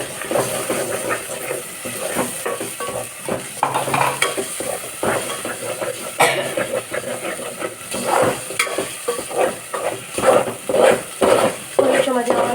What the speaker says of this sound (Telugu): ఆనియన్ పేస్ట్ వేసేస్తుంది.